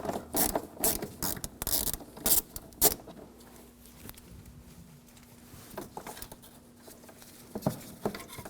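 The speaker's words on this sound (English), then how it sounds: "there's another screw right here, same 8mm socket. Loosen that up, take that out." A ratchet with an 8mm socket loosening a fog light screw on a 2007-2013 BMW 328i, with close bursts of rapid ratchet clicking, a quiet pause, then more clicking.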